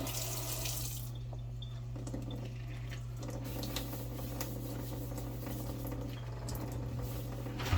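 Tap water runs steadily into a kitchen sink to wet down a rolled length of cinnamon bread dough, a continuous hiss and patter under a low background hum, with no talk.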